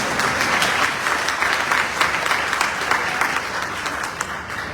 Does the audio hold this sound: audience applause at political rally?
yes